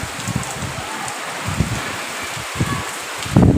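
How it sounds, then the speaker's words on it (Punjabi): Cold rain falling on a courtyard, a dense close patter of drops with soft gusts of wind, steady throughout with a slightly louder splash near the end, no talking. "ਠੰਡੀਆਂ ਠੰਡੀਆਂ ਕਣੀਆਂ ਆ ਰਹੀਆਂ ਨੇ"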